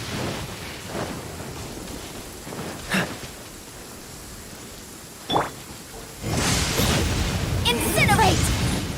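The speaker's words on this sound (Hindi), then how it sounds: "एक तो बारिश हो रहा है यहाँ पे।" Rain falling in the Genshin Impact video game, a steady broadband wash that swells heavier in the last few seconds, with a couple of short thunderlike bursts and voices mixed in.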